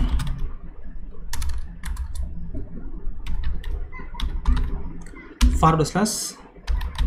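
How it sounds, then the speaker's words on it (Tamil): Typing on a computer keyboard, a rapid uneven patter of close key clicks mixed with a low background hum, a louder clack and brief rustle near the end, with someone talking over parts of it. "நான் கரெக்டாக டைப் பண்ணிக்கிறேன்"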